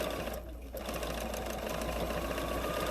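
A sewing machine runs steadily while stitching around the perimeter of a quilt, a continuous close mechanical whir with a brief dip near the start and no talking.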